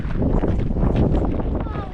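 Strong wind buffets the microphone at a small coastal lookout on the Nullarbor, a loud, steady low roar that never lets up for the full two seconds.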